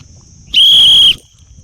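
A single sharp, loud whistle blast, about half a second long, signals the start of a ring challenge over faint background noise.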